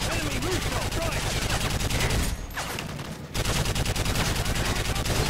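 Machine gun fire in Call of Duty: Modern Warfare 3 rattles loud and dense in rapid bursts, pauses briefly, then resumes, with sharp gunshot cracks layered over it.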